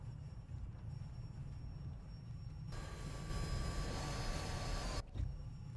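Steady engine roar from a jet in the video game War Thunder suddenly swells into a louder, broad rushing thrust for a couple of seconds during takeoff, then cuts back abruptly.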